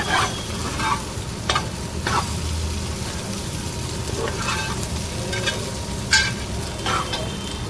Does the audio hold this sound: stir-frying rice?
yes